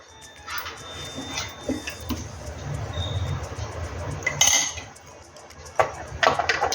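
Metal plates filled with ragi idli batter are set onto an idli steamer stand, making scattered close clinks and metallic clatters, with a louder cluster of clanks near the end.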